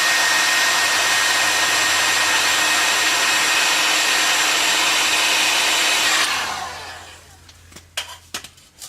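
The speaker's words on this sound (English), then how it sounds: "So just faster with a heat gun." A heat gun runs loud and steady, a broad blowing roar, while softening material during body work on a ute, then cuts off, leaving a few faint clicks and taps.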